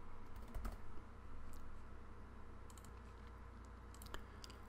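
Keys tapped on a computer keyboard while a folder name is entered, quiet scattered clicks in short bursts over a steady low background hum.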